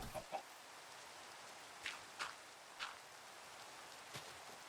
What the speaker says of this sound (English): I don't love the rain.